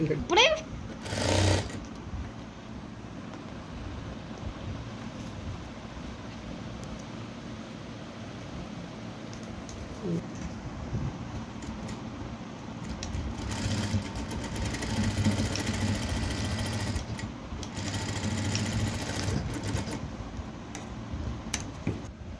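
Sewing machine stitching fabric, a steady low mechanical whirr with a brief louder burst early and a stronger run in the second half, heard close up.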